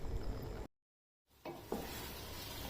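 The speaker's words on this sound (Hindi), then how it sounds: "अब इन पाए को मसाले में डालकर भून लेना है।" Boiled paya (trotters) sizzling and frying in masala, with a steady hiss broken by a brief pause and a couple of stirring scrapes in the pan.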